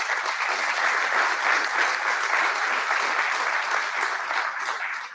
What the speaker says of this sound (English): I'd like to just give them all a round of applause